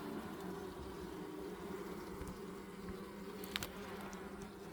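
Steady, dense buzzing of many honeybees at an open hive, a continuous low hum with a few brief louder passes of individual bees close by.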